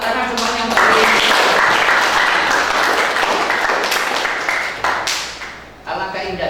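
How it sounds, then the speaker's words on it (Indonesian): Classroom audience applauding together during a school history lesson, a dense sustained burst of clapping that swells quickly, holds for several seconds, then thins out near the end, with a voice speaking briefly at the start and end. "Tepuk tangan semuanya."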